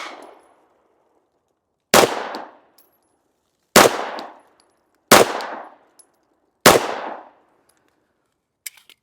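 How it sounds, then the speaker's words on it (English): A Glock 19 pistol fires five sharp, loud shots at irregular spacing of roughly one to two seconds, each crack decaying quickly into silence. "See how we do with 5 shots from the Glock 19."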